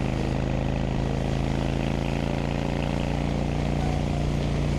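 A Honda Steed 600 cruiser motorcycle engine rumbles steadily at close range, its deep exhaust throb constant and loud without pause.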